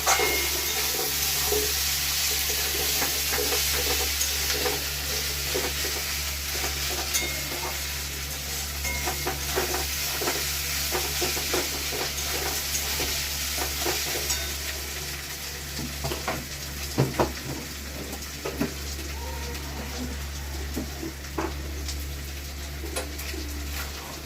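Garlic, onion and ginger fry together in a pan, giving a soft continuous sizzle. A spoon scrapes and stirs now and then, with a cluster of clinks toward the end, and a dove coos faintly in the background.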